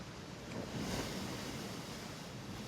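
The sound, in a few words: sea water lapping and banging against the seafront in wet weather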